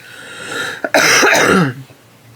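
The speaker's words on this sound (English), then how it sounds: "I still have a remaining cough from it." A single close, harsh throat clearing rolls into a raspy cough, loud and brief, lingering after COVID.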